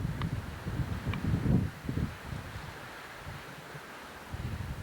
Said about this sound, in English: It's really windy today again.